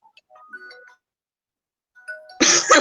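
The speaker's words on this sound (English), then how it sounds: "Oh, Edmund phone ring." A phone ringtone plays as two short runs of soft melodic tones separated by a pause, then cuts into a loud, harsh burst of noise.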